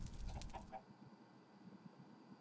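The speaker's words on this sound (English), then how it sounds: "And there's the chicken." A few quick, soft clucks from a Minecraft chicken at the start, then quiet with a faint steady electronic hum.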